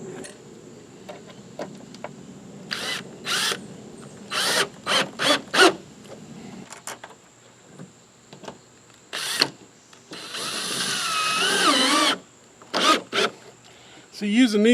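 Short bursts of a power drill driving metal screws into a truck tailgate ladder, several quick whirs spaced apart followed by one longer run, with quiet handling noises between.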